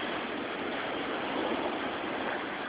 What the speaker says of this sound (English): Look at the size of those waves coming in between those docks